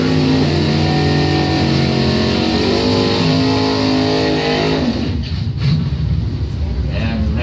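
Top doorslammer drag cars, including a 1971 Camaro, launch down the strip at the Bonfire Salute, their engines a loud continuous roar rising in pitch before cutting off abruptly, followed by fainter crowd and track noise.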